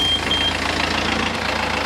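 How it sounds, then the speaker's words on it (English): A boat's engine runs loud and steady at close range, a continuous broadband rumbling drone that holds level throughout, with no voices. "And let me start it up again. We'll start the engine."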